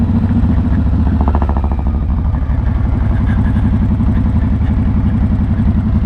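Hammer-style motorcycle on a test ride, a loud steady engine close by with a rhythmic throb and a brief rise as it shifts gears.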